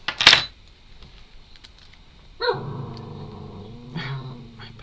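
A puppy gives a sharp yip, then a low rumbling growl that shifts into whimpering, close and intermittent over a quiet room.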